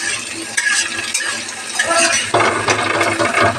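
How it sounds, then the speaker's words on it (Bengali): Onion fries in hot oil with bay leaf and cumin, a loud steady sizzle broken by close stirring scrapes and clinks of a utensil against the pan. "এবারে আমি পেঁয়াজটাকে ভেজে নেব।"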